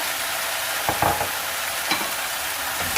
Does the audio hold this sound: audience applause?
no